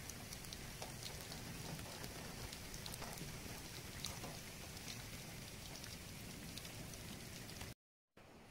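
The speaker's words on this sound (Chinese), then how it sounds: "哗啦啦的雨。" Steady autumn rain pours down across the greater Los Angeles area as the remnants of Hurricane Hilary pass, making a dense, even hiss of drops on surfaces that continues without a break.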